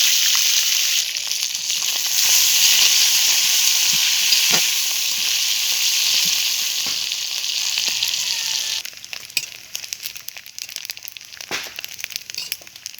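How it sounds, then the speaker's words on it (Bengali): Dried loitta shutki (Bombay duck) fries in mustard oil in a hot wok with a loud, steady hissing sizzle that gives way to scattered crackles and scraping stir sounds. "এবারে লইটা শুটকি মাছগুলো ভেজে নেব।"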